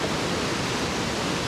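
A waterfall cascade at Doi Inthanon in Thailand roars as a continuous, dense wash of falling water, close and steady with no voices.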